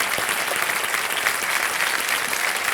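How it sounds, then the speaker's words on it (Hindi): Loud, dense audience applause in a TV quiz show studio, continuous clapping filling the whole stretch. "एक बार जोरदार तालियां बज जाएं इनके थैंक यू लिए"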